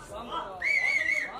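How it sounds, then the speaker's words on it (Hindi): Audience members whistle for a celebrity guest at a cruise launch event, a shrill sustained whistle rising over crowd chatter and cheering. "दोस्तों सीटी बजाओ उनके लिए"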